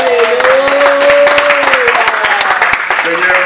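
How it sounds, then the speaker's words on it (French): A congregation claps loudly after a water baptism service, with crisp individual claps over a broad wash of applause, while voices sing or call out over the top. "Est-ce que nous pouvons applaudir très fort pour le Seigneur?"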